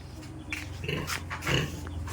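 A pregnant pig in its pen at a farm in the Philippines gives low, soft grunts with breathy snuffling, heard up close over faint background noise.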